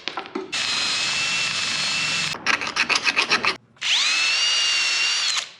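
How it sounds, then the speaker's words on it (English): Power drill whirring in sustained bursts as the flutes of its bit scrape rust out of metal on a homemade snowmobile, with a rapid stuttering grind in the middle and a pitch that rises as it spins up, loud and close. "I'm gonna try using the flutes on the side of the drill bit to clean out that rust"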